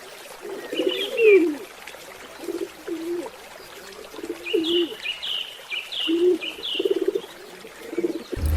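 A dove cooing in soft, repeated low phrases, with higher chirps from another bird in between, moderately close and alone without voices.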